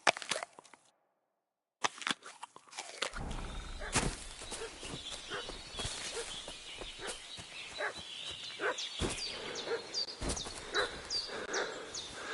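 A dog in the medieval video game Kingdom Come: Deliverance barks in repeated sharp bursts after a brief silence, fairly close, mixed with outdoor ambience and no speech.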